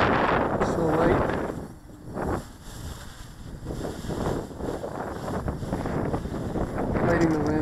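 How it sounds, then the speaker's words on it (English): Wind gusts buffet the microphone outdoors during a flight of a light 3D-printed tricopter, a steady blustery rush that swells and dips throughout, with faint voices at moments. "The wind is blowing it away from me."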